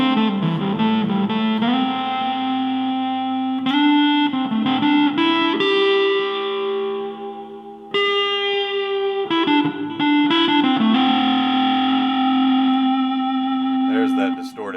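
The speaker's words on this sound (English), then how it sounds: "There's that distorted edge." An electric guitar plays through an amp with a distorted tone, strummed chords ringing and sustaining in repeated bursts across about fifteen seconds, loud and close.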